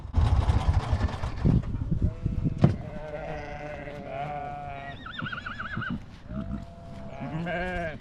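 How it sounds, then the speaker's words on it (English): Several sheep bleat near and far over a steady outdoor rumble, their wavering calls overlapping and repeating throughout. "you'll still see and hear the sheep in this video"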